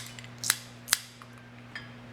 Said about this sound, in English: normally if I'm using a cutting board, I'll put 2 at a time and cut it